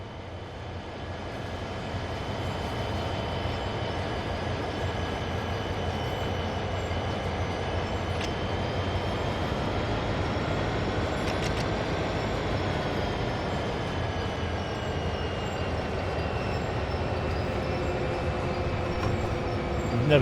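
Freight train in Train Sim World 3 running with its automatic brake applied, a steady low rumble and rolling drone with faint high squeals, continuous and close for the whole stretch with no talk.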